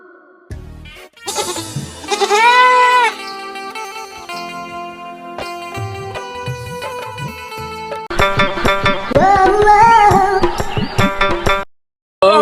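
A goat readied for Qurbani slaughter gives loud, wavering, drawn-out bleats, one early and another later, over a bed of tonal background music.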